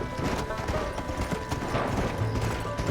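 Galloping horse hooves from the Western video game Red Dead Redemption, a steady clip-clop rhythm throughout with a rider's urging voice over it.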